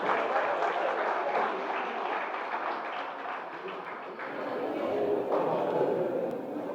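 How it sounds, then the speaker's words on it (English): An audience at an inter-school science exhibition applauds student participants, a dense, steady wash of clapping from a sizable crowd heard at some distance, with muffled voices mixed in. "So a big round of applause for all the participants here."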